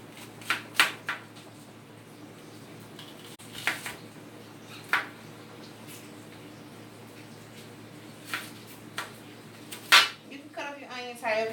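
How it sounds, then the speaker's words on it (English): Sweet and purple onions being chopped with a knife on a board, a series of separate sharp thunks at irregular intervals under a low room background, ending with a spoken voice. "So let me go ahead and cut up my onions."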